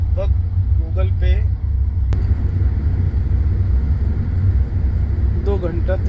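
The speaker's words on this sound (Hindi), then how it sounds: "गाड़ी में हम लोग बैठ गए और यहाँ से अब हम लोग निकल रहे हैं" A car sets off on a road trip from Krabi to Phuket in Thailand, with a steady low engine and road rumble throughout and a voice talking over it inside the vehicle.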